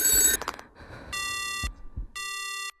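Electronic ringing of a telephone in the horror game Ao Oni, heard as two separate bursts of steady, bright tones with short gaps of quiet between them.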